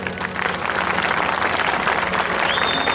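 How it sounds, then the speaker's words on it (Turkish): A concert audience applauds at a Ramadan concert in Aksaray, steady dense clapping filling the hall close and loud, with a thin high whistle-like tone entering near the end. "Alkışlar ona gelsin efendim"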